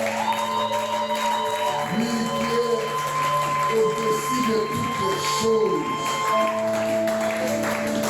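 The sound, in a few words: congregation applause and acclamations in church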